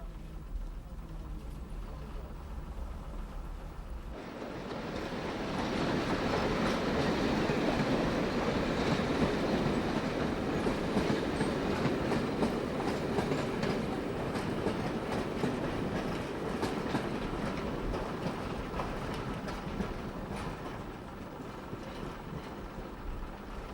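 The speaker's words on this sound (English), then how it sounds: "it's a conventional 3-coach DMU" Conventional three-coach diesel multiple unit train crossing a viaduct, a rising rumble and dense clickety-clack of wheels over rail joints that swells to a sustained roar as the coaches pass nearby, then eases slightly toward the end.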